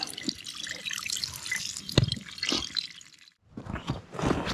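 Water pours and trickles from the outlet of a north foundation drain pipe feeding a roof-water dispersion trench, a steady close splashing flow with a brief sharp drip, a short near-silent gap, then running water again.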